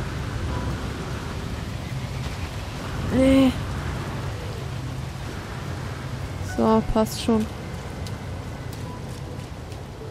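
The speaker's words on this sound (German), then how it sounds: "Wir haben hier giftigen Regen" Toxic rain falling in the game No Man's Sky, a steady hiss of rainfall that runs under the whole stretch, interrupted by two short tonal game effects, with someone speaking briefly.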